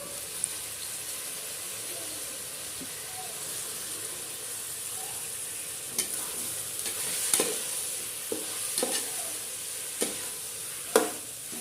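Onions, tomatoes and green chillies fry in a pan with a constant soft sizzle, while a spoon stirs them in several scraping clicks and knocks that get more frequent in the second half.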